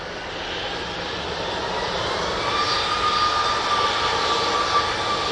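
A Ryanair passenger jet at Manchester Airport gives a steady, moderately distant engine roar with a faint rising whine, heard alone and building slightly over a few seconds.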